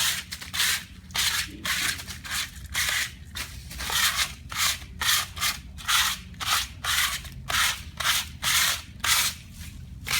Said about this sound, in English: give it a nice light scuffing on your stones, gives it that nice weathered look